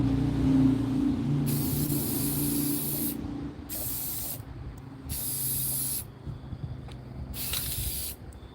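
A spray can in The Creepy Doll Factory hisses in four separate bright bursts, each a second or two long, over a steady low hum.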